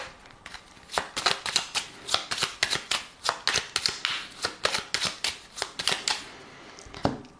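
A 32-card deck is riffled and shuffled for a card reading, with repeated crisp bursts of flicking cards in an uneven rhythm, close and clear.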